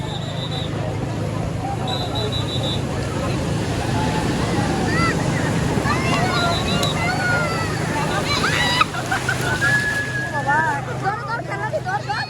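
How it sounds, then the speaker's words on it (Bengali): Big ocean waves roar and wash continuously, loud and close, while children shout and chatter excitedly over the surf. "তো আজকে ঢেউগুলো অনেক বড় বড়।"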